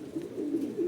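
A racing pigeon gives a low, soft cooing sound on arriving at its loft, faint and brief.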